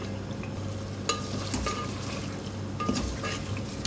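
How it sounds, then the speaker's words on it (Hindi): Pieces of pre-boiled beef are stirred into well-fried masala in a pan, giving a continuous low sizzle with a few sharp clinks and scrapes of a spoon against the pot, and no one speaking. "अब इसमें बीफ शामिल करूँगी। मसाले के साथ इसको मिक्स करेंगे।"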